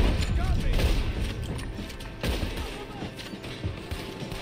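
Gunshots ring out in a Red Dead Redemption 2 gameplay session on PS5, several sharp reports and impacts spread across a few seconds, loud and close amid busy game noise.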